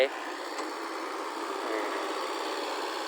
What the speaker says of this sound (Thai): นี่ให้แม็กซ์จวดมาขับรถไถ